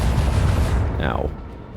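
Torpedo strike on a starship in the Rogue Trader video game: a loud, heavy booming rumble that decays, with a brief descending whistling tone near the middle as the impact fades.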